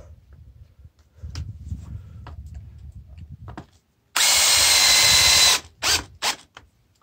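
A power drill drives a screw into a post anchor on a treated-wood 4x4 post: a loud, steady whir for about a second and a half, then two short bursts, after quiet low rustling and handling noises.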